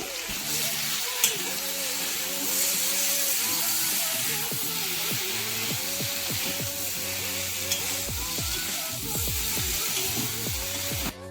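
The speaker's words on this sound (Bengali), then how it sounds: "হাফ চামচ লঙ্কার গুঁড়ো, হাফ চামচ জিরে মরিচ বাটা, পরিমাণ মতো নুন দিয়ে ভালো করে কষিয়ে নেব" Vegetables sauté in a pan with chili powder, cumin-pepper paste and salt for a pure-veg mixed vegetable curry. A steady close sizzle runs throughout, with spatula scrapes and stirring clatter in an irregular rhythm.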